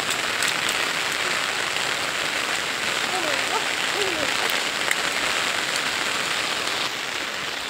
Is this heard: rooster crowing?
no